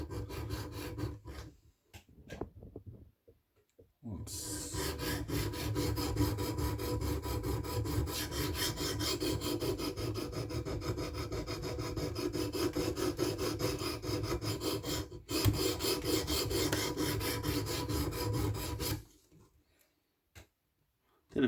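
A Spyderco Pacific Salt knife worked on a sharpening stone with fast back-and-forth scrubbing strokes gives a continuous close rasping scrape. It runs for long stretches, breaks off in a few short pauses, then stops near the end.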